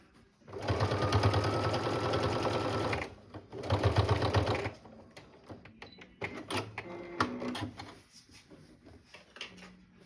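A sewing machine stitches bag handles in two loud, steady motor-driven bursts, then gives way to quieter scattered clicks and handling noises of fabric and the machine.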